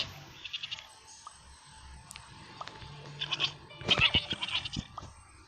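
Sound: sheep bleating in the video game Mini World

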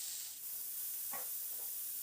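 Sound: cauliflower frying in hot oil

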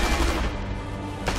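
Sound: gunfire in a video game

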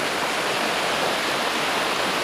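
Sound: swollen river rushing during floods

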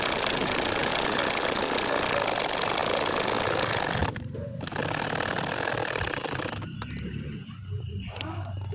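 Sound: sewing machine stitching a nakshi kantha quilt

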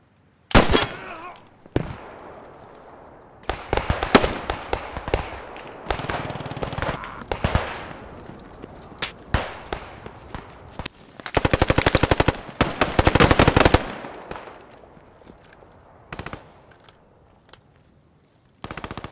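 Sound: gunfire in a WW2 shooter video game

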